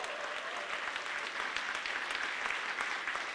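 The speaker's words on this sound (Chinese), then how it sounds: "拍手，谢谢他们" A church audience applauds a choir at a Christmas worship service, steady dense clapping from many hands throughout, moderately distant and fairly soft.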